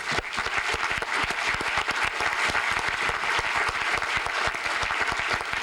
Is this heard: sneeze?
no